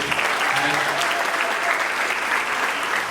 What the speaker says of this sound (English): please round of applause for that